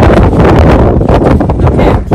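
Loud, constant wind buffeting a microphone in Namibia, a rough broadband roar with gusty swells throughout and no talking.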